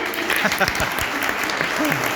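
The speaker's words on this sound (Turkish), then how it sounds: "Alkışlayın." A Turkish audience bursts into brisk applause, thick clapping filling the short stretch while a few voices and laughter rise underneath.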